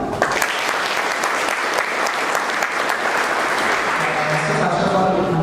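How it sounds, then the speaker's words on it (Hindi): Loud, sustained applause from an audience at a motivational event in India, dense clapping that continues for about five seconds with crowd noise underneath. "तालियां बजाओ ना।"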